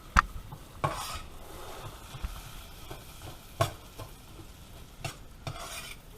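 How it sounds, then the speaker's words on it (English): Noodles browning in butter in a pan, a soft steady sizzle broken by several sharp clicks and scrapes of a spoon stirring against metal, close by with no talk. "So what you're doing with this is browning the noodles in the butter."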